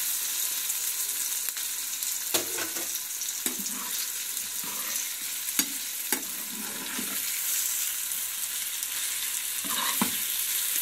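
Marinated chicken breast pieces sizzle steadily in a hot pan, with a few sharp clinks and scrapes as they are stirred and turned, no talking.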